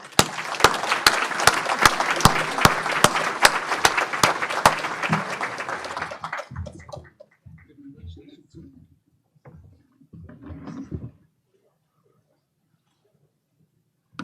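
Audience applause greeting College of Education Dean Ian Robertson as he comes to the podium for a guest talk, a loud sustained clapping crowd for about six seconds that fades out, followed by a few scattered sounds and brief murmurs.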